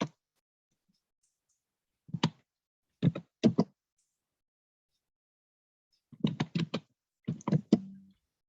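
Keys clatter on a computer keyboard from an unmuted participant in an online class, arriving in short separate bursts of a few quick taps with silence in between, close and clear with no talking.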